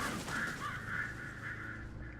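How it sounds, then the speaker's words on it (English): Crows caw in the video game Alan Wake, a faint string of harsh, rasping calls repeating over a couple of seconds against a quiet background. "Birds!"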